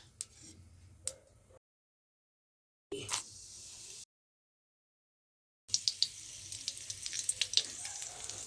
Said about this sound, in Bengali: এখন আমি মুগের ডালটা ভেজে নিচ্ছি